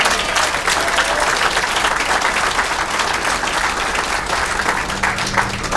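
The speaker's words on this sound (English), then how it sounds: "She could probably use a little applause here also today." An audience applauds, dense sustained clapping from a crowd that carries evenly across the whole stretch.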